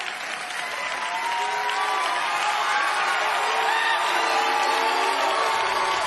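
An audience at a Storytellers event bursts into sustained applause that swells after the first second and stays dense and even, with a few whoops and cheers mixed in.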